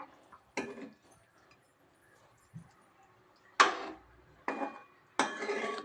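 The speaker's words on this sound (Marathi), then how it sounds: "आणि भाजी हलवून घेऊया" A pot of drumstick vegetable curry being stirred, heard as a few sharp scrapes and knocks of a spoon against the pot, spaced apart with quiet gaps, close by.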